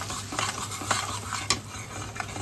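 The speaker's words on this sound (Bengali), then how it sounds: "এবার আমরা মশলাটাকে কষাবো।" A spatula stirs and scrapes spice paste with Kashmiri chili powder and salt in a pan for Bengali egg curry. Soft sizzling runs under several quick clinks and scrapes, close and quiet, with no talking.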